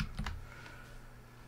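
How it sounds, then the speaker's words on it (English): Quick key presses on a computer keyboard, the Windows key plus R, heard as two close clicks near the start followed by quiet room tone. "You want to hit your Windows key on your keyboard plus R."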